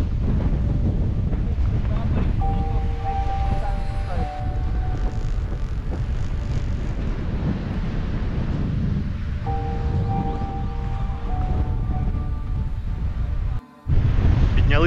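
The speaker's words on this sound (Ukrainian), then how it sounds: "вітер дуже сильний" Strong wind buffets the microphone on the top of Mount Yahidna in Ukraine, a loud continuous roaring rush with gusts throughout, sharply cut off near the end, while faint tonal sounds drift underneath.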